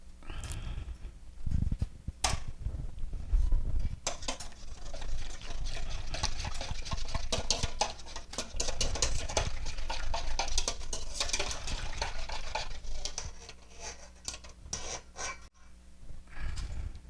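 A chocolate mixture is whisked into an egg mixture a little at a time, giving steady, busy whisking and scraping in a bowl close up that lasts well over ten seconds, loud and continuous with no talk.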